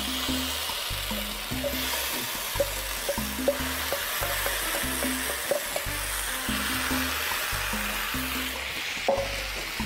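Saved sauce poured into a hot pan on a cooking show sets off a steady, hissing sizzle that runs throughout, with faint stirring clinks and a rhythmic background music track underneath.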